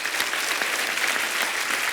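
Studio audience at a Hindi comedy show applauds loudly as guests are called onto the stage, a continuous dense roar of clapping and cheering throughout.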